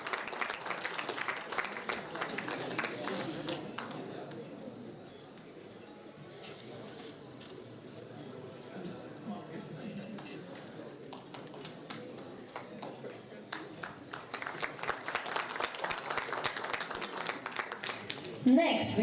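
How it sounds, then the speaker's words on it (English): A conference audience at an award and closing ceremony applauds, with dense clapping at the start that fades under a speaking voice in the middle and then swells again near the end. "Please give a huge round of applause."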